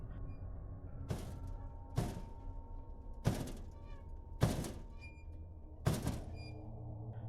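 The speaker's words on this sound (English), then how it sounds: "There was banging coming from inside, like someone was desperately trying to get out." Someone bangs on a door from inside a room: five heavy, dull thuds at uneven intervals roughly a second apart, with a faint hum between them.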